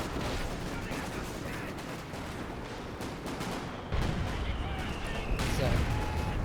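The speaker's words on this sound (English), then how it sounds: "So, coordinated barrage in the center." Artillery barrage in a WWII strategy game, dense rumbling booms and crackling impacts rolling continuously, growing heavier partway through, with faint speech underneath.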